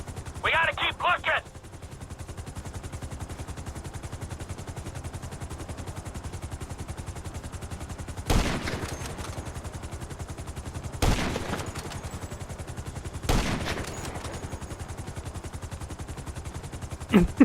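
Gunfire from FIB agents' guns in the video game GTA V: a few sharp, spaced bursts of shots, plus a brief cluster near the start, crack out over a steady low background hum.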